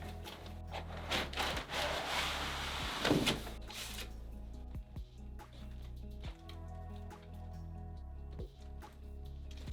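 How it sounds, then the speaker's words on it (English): Packing material is pulled and rubbed out of the box of a Mazzer Philos coffee grinder, with a burst of scraping and rustling early on followed by quieter intermittent thuds, knocks and shuffles. "let's get the rest of this packing material out and get this grinder out on the counter"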